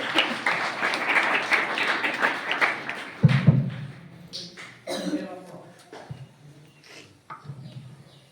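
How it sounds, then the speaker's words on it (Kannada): An audience at a felicitation event gives a loud round of applause, with dense clapping that tapers off while a voice begins speaking. "ನಿಮ್ಮೆಲ್ಲರ ಜೋರಾದ ಚಪ್ಪಾಳೆ ಮೂಲಕ."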